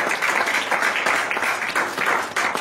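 A church congregation at a Pentecost service in Rennes breaks into sustained, dense applause, a steady wash of many hands clapping together without pause and with no voices standing out.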